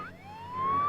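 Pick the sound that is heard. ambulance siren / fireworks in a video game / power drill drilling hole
ambulance siren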